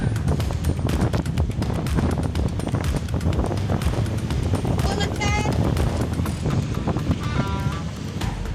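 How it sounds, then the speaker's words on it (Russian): Steady, low buffeting wind rumble against the microphone throughout while cycling along a city-centre bike lane, with faint traffic and chirping tones in the background. "очень ветрено."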